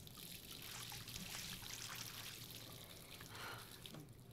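A faucet runs in the video game Life is Strange, a steady, hissing stream of water pouring continuously, soft and without any voices.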